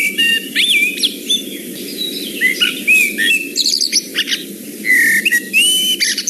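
Blackbird song slowed down, its melodic whistled phrases stretched into long, sliding tones with short pauses between them, loud and clear over a low, steady background hum.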